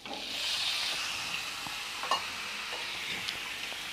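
Raw goat liver, about 200 grams and freshly washed, drops into a hot pan, setting off a steady broadband sizzle with a few sharp crackles and spoon clinks close by, no voices.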